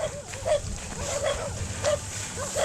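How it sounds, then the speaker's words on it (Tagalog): Several dogs bark repeatedly in the distance, short yelps recurring about every half second over a noisy outdoor background. "naririnig nyo na ba yung mga aso?"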